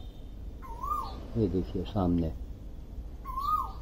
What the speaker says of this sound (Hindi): यही कोयल है, ये देखिए बोल रही है